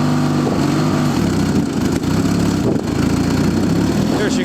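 A Gilson S-Twin 18 HP lawn tractor idles loudly close by as its PTO engages and the mower deck spins up, a steady mid-pitched engine drone throughout.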